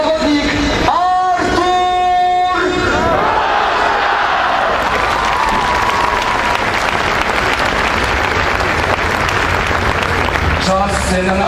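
Crowd applause for a speedway player receiving his medal at a season podium celebration, loud sustained clapping and cheering over a public-address voice at the start and end.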